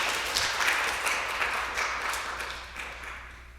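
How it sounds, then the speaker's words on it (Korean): A church congregation applauds to bless departing members, giving a steady wash of clapping from many hands that holds evenly and slowly fades over a few seconds. "우리 잘 다녀오라고 우리 박수로 축복하겠습니다."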